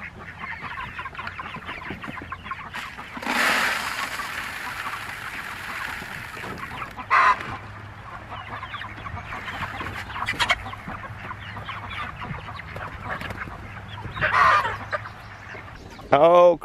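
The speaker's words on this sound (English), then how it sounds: "crazy white chicken" A white chicken clucks and squawks in short bursts close by, with other farm sounds and a person talking intermittently around it.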